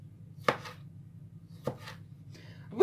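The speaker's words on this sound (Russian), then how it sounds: "И также мелко нарезаю помидоры черри." A knife finely chopping cherry tomatoes on a cutting board: three separate sharp knocks of the blade spaced about a second apart, close and fairly quiet, with no talk.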